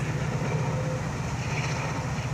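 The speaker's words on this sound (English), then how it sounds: "And there goes the train." A train rumbles past near San Francisco, a steady, loud low roar with a faint tonal hum, continuous across the clip with no voices.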